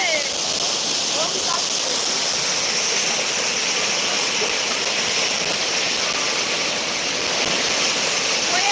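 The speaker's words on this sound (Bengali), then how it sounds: "এই নদীর ভাঙন হচ্ছে" Loud, steady rush of flowing river water along an eroding riverbank fills the whole span, a continuous broad hiss without pause.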